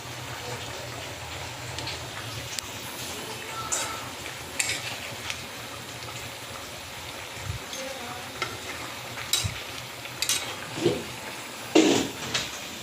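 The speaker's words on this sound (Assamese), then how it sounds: "তৰকাৰীখিনি উতল আহিলে এতিয়া মই মাছকেইডোখৰ দি দিম।" Pieces of boroli fish go into a boiling ou tenga (elephant apple) curry, which simmers with a faint, steady bubbling hiss and a few soft stirring knocks and clinks scattered through it.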